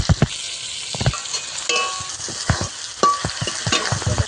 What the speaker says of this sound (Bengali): মশলা আমি এইভাবে কিছুক্ষণ ভেজে নেবো শুকনা থেকে তেজপাতা দেবো